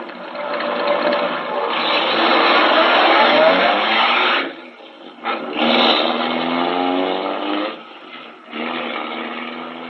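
In an old radio drama, a car speeds away, its engine roaring up loudly through gear changes with brief dips between bursts, heard alone without voices.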